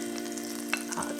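Butter sizzling in a pan as a sauce is started, a steady soft frying crackle with a faint clink near the middle.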